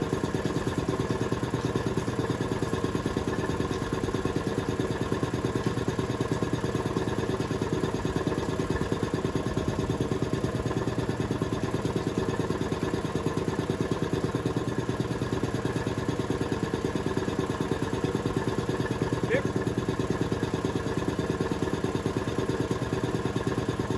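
An air compressor fitted with a newly fabricated safety guard runs steadily, a loud continuous mechanical hum and clatter with no change for the whole stretch.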